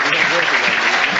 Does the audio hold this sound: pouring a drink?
no